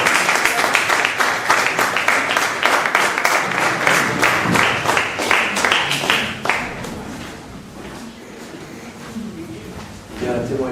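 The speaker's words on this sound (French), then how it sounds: "Alors, sous vos applaudissements, vraiment, dire merci à toute cette équipe qui a travaillé dur pour ce temps." A church congregation at a Pentecost service applauds the volunteer team, with loud, rhythmic clapping for about six seconds before it thins out into scattered claps and murmuring voices.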